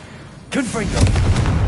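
An explosive Confringo spell in Hogwarts Legacy: a swelling whoosh turns into a loud burst with a rumbling low tail, while game voices are heard over it.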